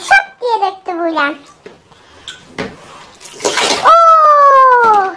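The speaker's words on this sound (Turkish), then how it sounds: "köpükler gitsin diye suları döküyor bakalım" Water is poured out of a bathtub to wash away bath foam, with a short splashing gush amid a child's high-pitched voice and playful vocal sounds close by.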